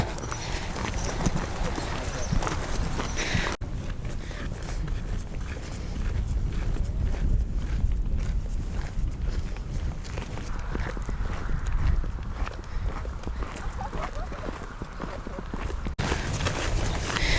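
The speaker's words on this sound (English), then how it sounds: "We still have a donkey next to us." Hooves of a donkey clip-clop steadily alongside walkers on the Camino Francés path between Villavante and Astorga, a near, regular walking rhythm running under continuous talk.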